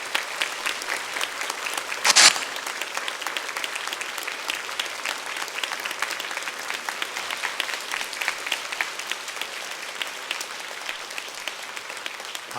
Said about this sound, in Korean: 우리 은혜드림교회가 보낼 수 있는 가장 큰 박수로 모시도록 하겠습니다